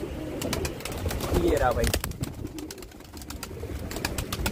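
Pigeons coo softly nearby, low repeated throaty calls and a few flutters, while someone speaks briefly over them amid background noise.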